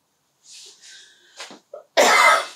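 A single close, harsh cough bursting out after a few breathy hissing exhalations and a short throaty sound.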